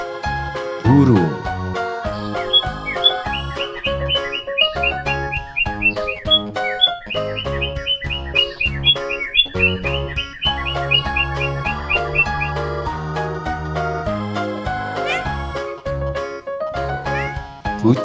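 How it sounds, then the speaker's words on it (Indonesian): Birds chirp and tweet in quick repeated bursts, bright and close, running through a long stretch with some busy tonal sounds underneath. "Burung."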